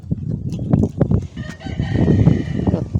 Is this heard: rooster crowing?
yes